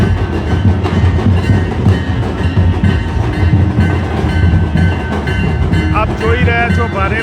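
A metro train at Gandhinagar Sector 1 metro rail station gives a loud, steady rumble with rail clatter throughout, and tonal whines rise near the end. There is no clear talk.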